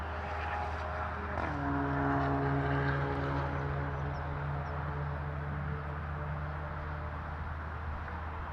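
A Sunwing Boeing 737 MAX 8 jet at Toronto Pearson airport roars as a steady, distant engine rumble with a faint whine on top, holding fairly even throughout with no talk.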